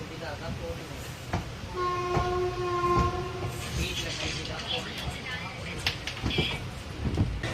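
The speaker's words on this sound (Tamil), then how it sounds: "வாரத்தில் ஒரு நாள் மட்டுமே ஓடக்கூடிய ட்ரெயின் இது." A passenger train on the weekly Pondicherry–Kanyakumari service rumbles past with steady wagon noise and a sustained multi-tone horn midway, while people talk nearby.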